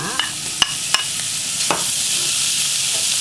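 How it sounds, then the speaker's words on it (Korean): Strips of beef stir-fry in a little cooking oil for a bean sprout beef soup, a steady loud sizzle broken early by a few sharp utensil clinks against the pan. "고기를 볶아줄 건데요. 식용유를 조금만 누를 수 있으니까 누르고"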